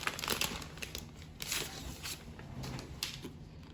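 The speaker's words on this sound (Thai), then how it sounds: "โอ้นี่แกะยากนิดนึงครับ" Crinkling and tearing of packaging as a pink 2021 iMac is unwrapped, irregular rustling bursts of plastic and paper at close range, fairly quiet, with no talking.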